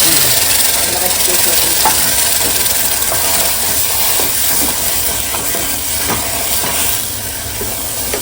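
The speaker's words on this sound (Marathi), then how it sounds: "लसूण चांगली लाल करायला भारी दिली का आई काय ती फोडणी" Steady hissing sizzle of garlic frying in hot oil for a tempering, loud and close, with faint crackles and a few soft clinks throughout.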